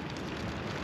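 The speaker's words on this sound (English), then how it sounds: "It's still raining, it's still freezing, but it's half done." Rain falling outdoors on a freezing day, a dense steady hiss of drops on surfaces, continuous and close, with no voices.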